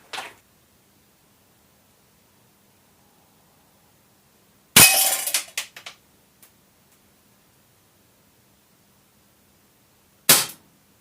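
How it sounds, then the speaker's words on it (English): A KWC C96 Broom Handle Mauser (M712) .177 BB blowback CO2 air pistol fires, with one sharp crack and a rattling blowback burst, a small tick, then a second crack several seconds later, loud and close against near silence. "first few shots with the C96."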